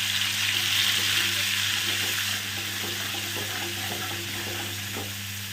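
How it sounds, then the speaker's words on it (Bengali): Cumin and a spice paste with turmeric and salt fry in a pan, a constant loud sizzle with faint stirring scrapes, easing slightly partway through. "জিরেটা একটু ভাজা হোক, গন্ধটা বেরোলেই দিয়ে দিচ্ছি"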